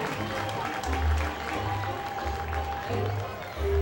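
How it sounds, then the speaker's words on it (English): Crowd applause fills a minor-league baseball stadium as the first pitch is thrown at a Long Island Ducks game against the Sugar Land Skeeters, a steady wash of clapping with low thumps and chatter underneath. "let's give Jake a big round of applause as he throws out tonight's first pitch to Long Island Ducks, Buddy Harrelson."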